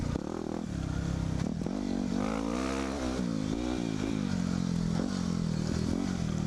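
A motorcycle ridden off-road along a wooded trail gives a steady, close engine drone that rises and falls with the throttle, with faint clattering underneath.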